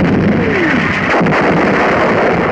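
Artillery shell striking a German 88mm gun position during WWII fighting in North Africa, a loud, dense roar of blast and rumble that fills the whole stretch with no voices.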